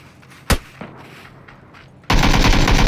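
Gunfire in PUBG from a VSS or Mk14 rifle: one sharp shot and a second fainter one, then a loud sustained burst of rapid fire over the last second.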